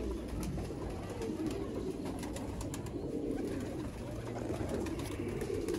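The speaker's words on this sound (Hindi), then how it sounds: "यह शौक करो नायाब कैटेगरी का कबूतर" Red-eyed pigeons coo softly and steadily in a rooftop loft, low murmuring calls repeating close by with faint background rustle.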